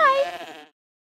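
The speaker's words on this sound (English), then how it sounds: "Little Bo Peep has found her sheep, and she knew where to find them." A single sheep bleats once, close and fairly loud, a wavering cry lasting under a second before silence.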